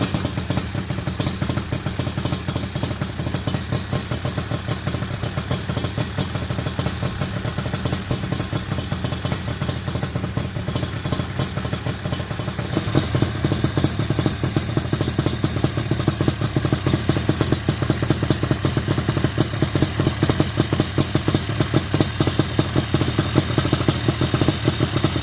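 A Yamaha Banshee ATV engine idles steadily and loudly throughout, a rough, rapid chugging with rattling clatter that thickens a little partway through.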